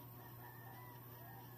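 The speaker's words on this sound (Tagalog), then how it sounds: "Ayan, masayahing manok." Farm chickens clucking and crowing, faint and low-level against a steady background hum, with no talk.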